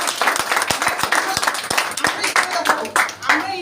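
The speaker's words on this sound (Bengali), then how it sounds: "সবার জন্য সবাই একটু জোরে হাততালি।" An audience claps at an event, a dense irregular burst of handclaps filling the clip under and alongside a voice talking.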